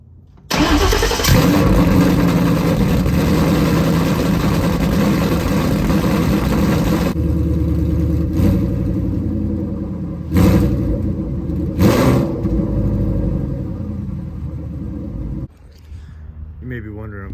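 A cold 1993 Ford Bronco engine cranks and catches with a loud roar, holds a high fast idle for several seconds, then settles lower with a few sharp revs near the microphone.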